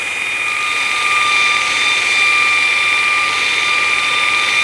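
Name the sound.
Vevor 2x82 belt grinder grinding material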